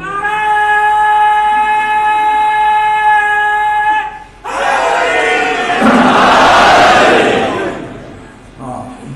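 At a Muharram religious gathering, a long sustained voiced call rings out before a large crowd answers with loud, roaring chanted slogans that swell, peak and then fade near the end.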